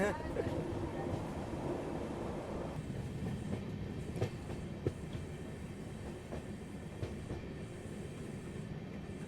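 SMVT Bengaluru–Mumbai LTT weekly express train arriving at the Pune outer, a steady close rumble of rolling coaches with faint wheel clicks and brief squeaks throughout, under light background voices.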